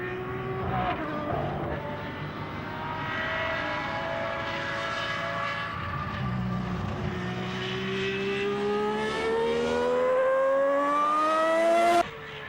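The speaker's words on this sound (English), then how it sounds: "The 12-cylinder engine snarls as Mansell accelerates away" A high-revving 12-cylinder Ferrari Formula One engine screams as it accelerates on a wet circuit in winter, its pitch rising steadily through fast gear changes, loud and close.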